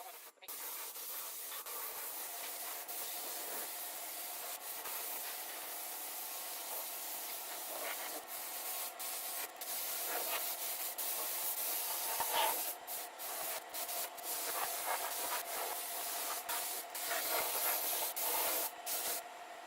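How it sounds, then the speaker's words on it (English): Multi-purpose primer sprayed from an aerosol can onto the plastic body of a kid's Power Wheels ride-on car, a steady close hiss running almost without break, with short pauses between passes. "we're going to go ahead and start putting on the first coats of primer"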